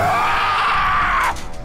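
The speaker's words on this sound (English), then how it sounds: "listen to this scream" A character in Star Wars: The Force Unleashed II lets out a loud, strained scream lasting about a second, cutting off abruptly.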